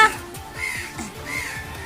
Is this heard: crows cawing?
yes